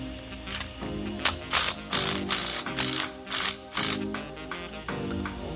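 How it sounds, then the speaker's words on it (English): A ratchet fitted with a 6mm Allen socket loosens a bolt while a Polaris Axys snowmobile gets new Avid drivers, giving a steady run of close, crisp clicking strokes in bursts of roughly one per second, with no talk. "We're going to use an Allen socket to make it faster."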